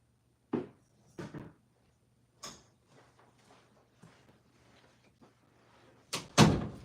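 Broom knocked over by a cat in a room, a few separate clattering knocks followed by a loud, close double crash at the end.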